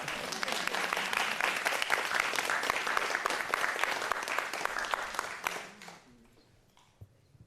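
An evening lecture audience claps in a steady, full round of applause for several seconds, heard at moderate distance, then the clapping thins out and stops, leaving a few scattered claps.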